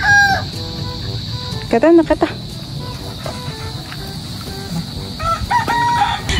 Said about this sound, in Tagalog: Dito po pala sa fish pond ay meron na pong kulungan ng mga manok.